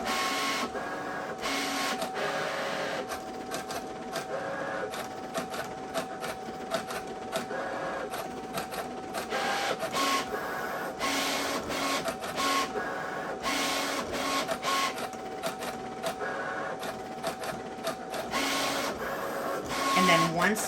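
A Cricut Venture cutting machine slices a large banner, giving off a steady mechanical whir with rapid clicking and shuttling carriage movements that continue without a break throughout.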